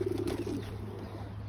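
Domestic pigeons in a home loft, a breeder's flock with parent birds on eggs, give soft, low cooing up close, a steady throaty murmur with no voices over it.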